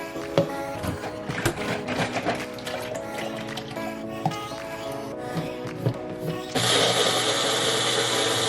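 A sewing machine runs in short mechanical bursts amid other steady tonal sound, then settles into a louder, steadier whirring run toward the end.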